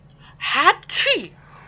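A person lets out two quick, voiced sneezes close up, one right after the other, each rising sharply and falling away.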